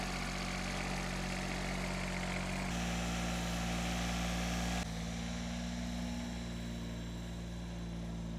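A tractor engine idles close by, a low, even mechanical drone that holds constant and shifts pitch slightly twice, with no voices.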